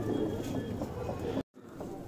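Malwai pigeons, a black Punjabi breed, coo softly in a crowded loft, a low murmuring drone over busy background noise that breaks off briefly near the end before resuming.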